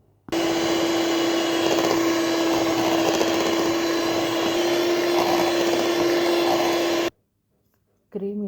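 An electric mixer beats cream flavoured with vanilla essence, a loud, steady, close whine with a constant pitch that runs for about seven seconds, stops abruptly, then starts again at the very end.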